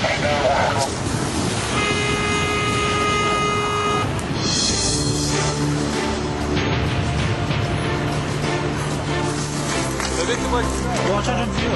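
A car horn toots in short blasts and one sustained honk amid dense roadway traffic noise at a fire scene in France, with voices speaking over the din throughout.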